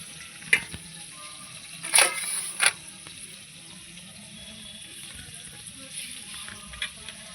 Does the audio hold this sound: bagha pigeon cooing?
no